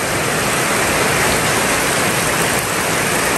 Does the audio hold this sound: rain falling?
yes